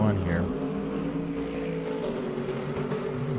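A race car on the circuit at Circuit of the Americas during a time attack session. Its engine note rises and shifts as it passes, while a commentator talks over it.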